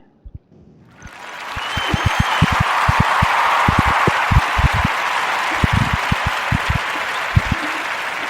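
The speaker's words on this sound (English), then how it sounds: "give a warm Narrative Podcast round of applause" Warm studio-style round of applause from an audience, swelling in after a second of quiet and then holding steady and dense for several seconds, with crisp individual claps standing out near the front.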